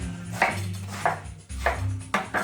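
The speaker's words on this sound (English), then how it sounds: "And we'll give that just a nice little bit of a coarse chop" Knife coarsely chopping lettuce on a board, a handful of separate close thunks spaced roughly half a second apart over a low kitchen background hum.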